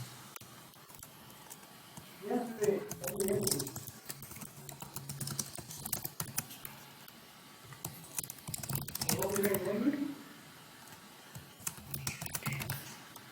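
Quiet computer keyboard typing comes in two short clusters of rapid key clicks, separated by near silence, close to the microphone.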